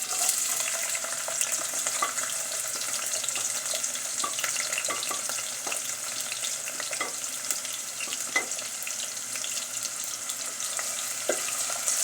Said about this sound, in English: we are going to heat our oil, and then we are going to add our onions